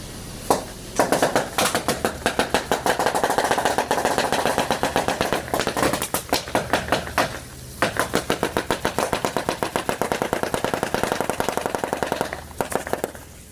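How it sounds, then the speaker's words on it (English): A Jeep Wrangler rolls across an unrolled sheet of bubble wrap, setting off a loud, dense run of rapid crackling pops, almost like gunfire, that pause briefly about a third of the way through and then surge again. "what does it sound like when a Jeep Wrangler drives over an unrolled roll of bubble wrap?"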